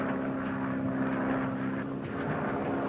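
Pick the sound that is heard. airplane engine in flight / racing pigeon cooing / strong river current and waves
airplane engine in flight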